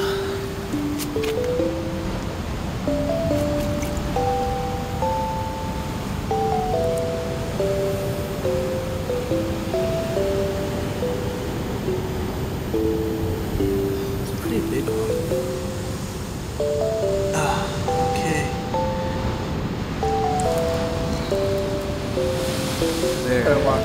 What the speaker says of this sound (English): waves are big